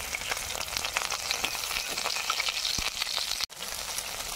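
Whole spices sizzle in hot oil for tempering: bay leaves, dry chili, cumin and ginger paste. A steady bright frying hiss runs throughout with a faint stir near the end, no talk.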